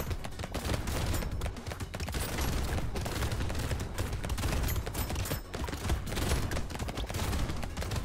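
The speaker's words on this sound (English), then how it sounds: "Good old reliable shotgun." Rapid, continuous shotgun blasts from the arena shooter Brotato, a loud dense fusillade of overlapping shots with no pauses throughout.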